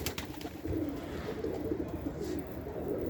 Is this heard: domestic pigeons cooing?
yes